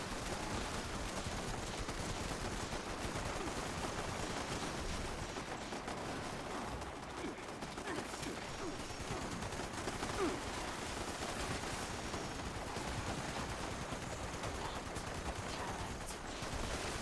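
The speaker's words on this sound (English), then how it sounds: "I think my artillery is actually working. That smoke, that's the artillery." Artillery pounds away during a Fallout 76 event, a dense, continuous barrage of distant booms and gunfire blended with battle noise throughout.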